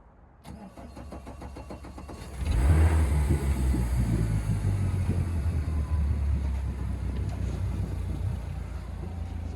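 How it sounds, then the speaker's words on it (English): A Mercury 150HP outboard on a 2021 Zodiac Open 6.5 RIB cranks with a rapid starter chatter, then catches and roars to life, settling into a steady, loud, close-up idle rumble with no voices. "Turn the key to start the engine."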